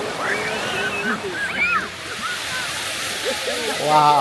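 Sea waves wash steadily in at Durdle Door, the arched rock on the coast, with a constant close rush of surf and faint voices in the background.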